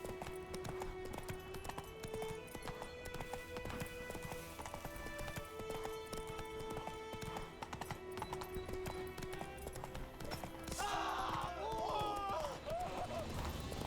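Rapid hoofbeats of Geralt's horse Roach galloping in The Witcher 3 video game, a steady clip-clop rhythm under game music and ambience, with a brief burst of other game sounds near the end.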